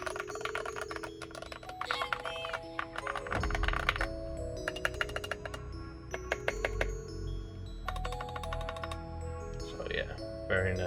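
Keys clatter on a custom-built mechanical keyboard fitted with Gateron Ink Kangaroo switches lubed with Krytox 205, giving rapid, crisp, uneven clicks close to the listener, with a few bright metallic tinkles mixed in.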